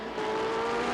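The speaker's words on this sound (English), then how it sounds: "here's a view of Craig Hill's car as he motors down the Barrie Speedway back straight" A race car motoring down the back straight at Barrie Speedway, its engine holding a steady, loud droning tone close by for a brief moment, with no talk.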